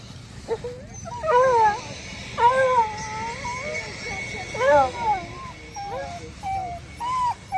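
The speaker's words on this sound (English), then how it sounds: "I heard a dog yelping." A dog yelps and whimpers outdoors in repeated high, wavering cries, several bursts spaced over several seconds, with a steady low background rumble throughout.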